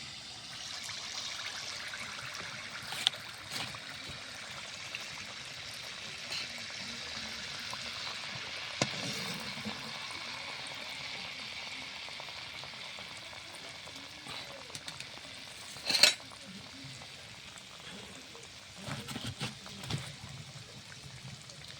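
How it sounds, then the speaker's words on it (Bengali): Jaggery andosa batter frying in a wok of hot oil, giving a steady close crackling sizzle throughout with occasional louder pops and bubbling bursts. "আমি ভাজছি গুড়ের আন্দোসা।"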